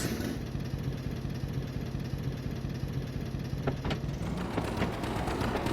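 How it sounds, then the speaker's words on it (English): A tractor engine in Farming Simulator 25 idles as a steady, even drone throughout, with a few brief clicks near the end. "let's use this tractor today"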